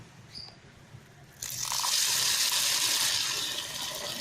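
Water gushes steadily from a tap over moong dal in a kitchen vessel for soaking, starting abruptly partway in and running loud and continuous to the end.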